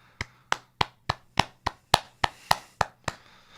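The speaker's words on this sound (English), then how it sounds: "So I'm just going to do a few audible claps on behalf of us." Eleven crisp hand claps ring out one by one at an even, unhurried pace, close and dry in a quiet room, each a sharp isolated smack with nothing else around it.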